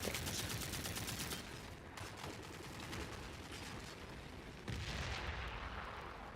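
Rapid bursts of gunfire in the video game The Forever Winter, dense and rattling like automatic weapons, continuing steadily with a few heavier booming shots.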